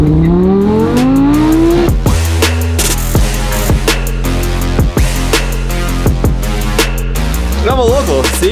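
A Lamborghini Huracan supercar engine drones steadily while driving, loud and close, rising through revs in smooth sweeps with sharp shift breaks and steady cabin rumble throughout.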